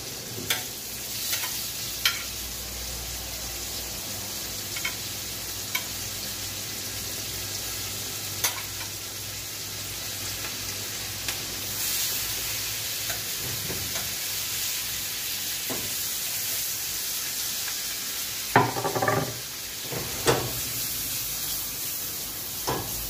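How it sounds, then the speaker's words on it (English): Chopped garlic and onion sauté in a hot pan, giving a steady close sizzle and hiss with occasional stirring clicks and scrapes throughout, no talking. "go ahead and start to saute my season. I want to go in with the chopped garlic"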